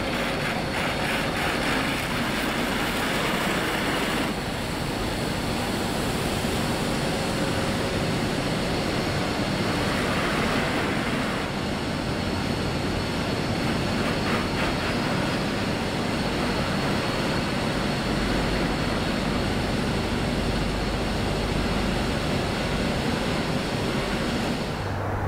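A BlowVac BackLift 8200 vacuum truck drives along, its engine and the cab rumbling in a loud, constant roar that fills the whole stretch with no talking.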